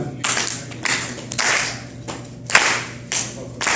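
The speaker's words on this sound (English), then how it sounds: "I'm gonna need some clapping for this, and we want rhythm here, so give me some clap." Dinner-theater audience clapping in rhythm on cue: sharp, loud bursts of many hands striking together in a steady pulse, roughly every half second to second, with brief gaps between.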